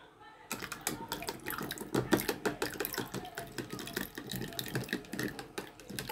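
Lukewarm water poured for Ukrainian pampushky garlic bread dough, a close, bubbling, splashy stream that builds after a brief pause and continues unevenly for several seconds without speech.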